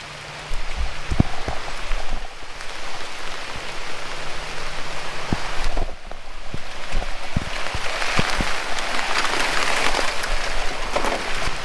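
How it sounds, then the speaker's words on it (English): Steady rain falls from a brief summer thunderstorm over a vegetable garden, a continuous dense patter on surfaces with scattered louder drips, close and even throughout. "We just had a really quick thunderstorm roll through"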